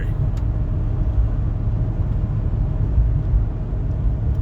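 A 1993 Ford F150 pickup truck drives along quietly, its engine and road noise forming a steady, low, continuous rumble throughout, with no talking over it.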